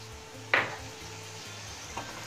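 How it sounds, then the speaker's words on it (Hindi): Whisked yogurt frying with spice masala in a pan for an onion curry, a soft steady sizzle with a sharp clatter of a spoon stirring against the pan and a second fainter scrape a moment later. "और दही को भी लगातार चलाते हुए अच्छी तरह से भूनना है।"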